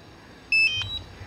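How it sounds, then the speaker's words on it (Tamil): A DJI Mavic Mini drone controller gives a short, loud electronic beep when powered on, a single high tone followed by a brief fainter chirp over low background noise. "இதாக பீப் பண்ணிச்சிங்களா, இப்போது உங்கள் கண்ட்ரோலர் ஆன் ஆகிடுச்சு."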